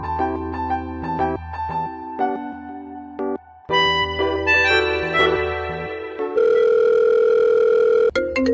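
A phone ringing with an incoming call, heard as a loud, melodic tone sequence that changes pitch in steps, pauses briefly, then ends in a sustained, buzzing ring.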